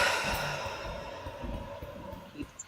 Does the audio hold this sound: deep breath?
yes